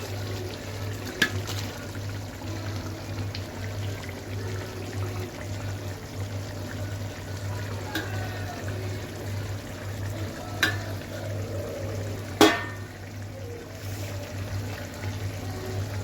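Paneer, capsicum and onion folded into a kadai paneer gravy, with soft wet stirring and a quiet simmer under a steady low hum, plus a few sharp spoon taps against the pan, the loudest near the end.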